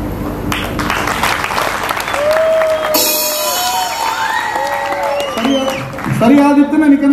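Applause and cheering from a magic show audience, dense clapping with whoops and shouts rising over it, while voices talk and call out throughout.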